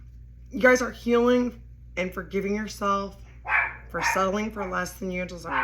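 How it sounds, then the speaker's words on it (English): A pet dog barks and yips in short bursts close by, mixed in with a person speaking steadily throughout. "That's my dog."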